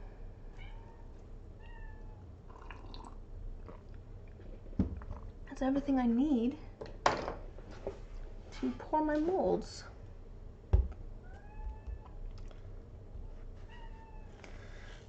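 A pet cat meows several times in a short series of rising, drawn-out calls close by, mixed with intermittent indoor talk and the small clatter of someone working with silicone mold-making supplies.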